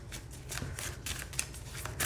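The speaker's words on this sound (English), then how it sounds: "when I shuffle this way, it's just fine" Rapid riffling of a Dali tarot deck, a steady run of papery flicks and snaps, close and fairly quiet, with no voices.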